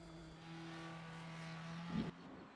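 A Porsche race car engine in the Automobilista racing game holds a steady, moderately loud drone that swells slightly and peaks in a brief surge before dropping off.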